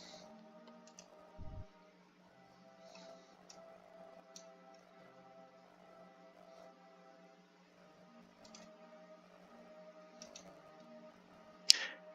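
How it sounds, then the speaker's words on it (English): Light, quick typing on a computer keyboard, soft clicks in irregular bursts against a faint steady hum, with one sharper knock near the end. "Keyboard."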